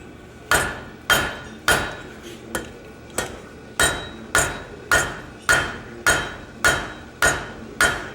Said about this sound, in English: I'm using the fuller side of my hammer, and then I flip around and use the flat.